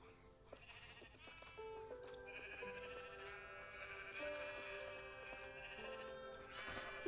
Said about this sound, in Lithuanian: Čia per daug avių.